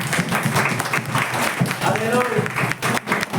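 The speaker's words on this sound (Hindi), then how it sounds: "जो लोग मन में बोला उनके लिए आप ताली मारेंगे" Congregation in a church clapping hands, a dense continuous patter of applause mixed with voices and talk throughout.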